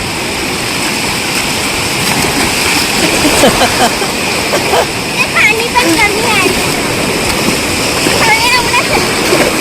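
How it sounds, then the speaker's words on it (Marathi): Sea waves surging and breaking on Anjarle beach in the Konkan, a steady broad wash of surf with splashing bursts, while people talk and shout excitedly over it. "लाट आली लाट आली."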